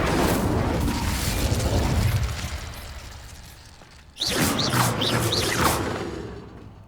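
Fiery spell blasts, Incendio and Confringo, cast in the Hogwarts Legacy video game: a loud, dense rush of booming roar that fades, then a sudden fresh burst with sharp whooshing swishes over a rumbling low end.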